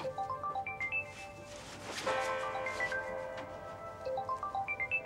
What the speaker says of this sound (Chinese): 你电话